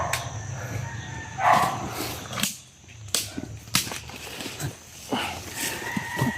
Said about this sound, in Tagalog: Palakas na papalakas yung kahol ng aso.